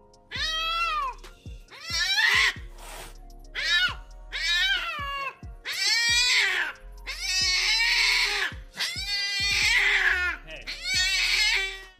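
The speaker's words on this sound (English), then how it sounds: "This cat was not happy to see the new addition to the family." Unhappy house cat meowing repeatedly in long, drawn-out, wailing cries, about nine distinct yowls with short pauses between them, loud and close.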